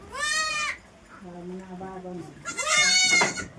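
Goats bleat loudly and close by inside a shed where they are tied up because of rain, two drawn-out calls at the start and end with a lower bleat in between.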